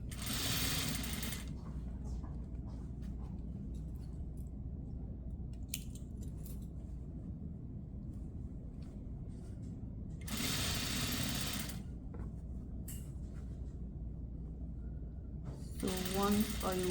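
Sewing machine stitching a jacket lapel seam to the facing, running in short bursts separated by pauses, with quiet talk in between.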